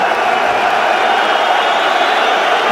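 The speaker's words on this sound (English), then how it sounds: "Listen to the crowd. Listen to the noise. Listen to the buzz in the air." Crowd buzzing at a fight event in France, a dense, steady wash of many voices and murmur with no single voice standing out, loud and continuous throughout.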